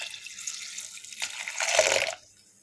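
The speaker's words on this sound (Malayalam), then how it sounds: "ഇപ്പം ഞാൻ ഇതിനകത്ത് ഞാൻ മാറ്റി വെച്ച ആ വെള്ളം തന്നെയാണ് കേട്ടോ ഞാൻ ഇതിനകത്തേക്ക് ഇടുന്നത്" Reserved soaking water poured into a pressure cooker, a steady splashing pour that swells and then stops abruptly near the end, close and alone.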